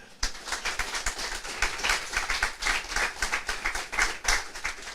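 A church congregation applauds at a worship service, steady dense clapping from many hands filling the whole stretch at moderate distance, with no voices over it.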